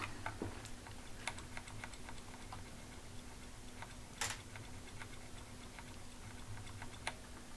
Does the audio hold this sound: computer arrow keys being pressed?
yes